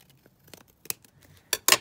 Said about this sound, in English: I'm just going to take my top of my envelope here and I'm just going to snip across there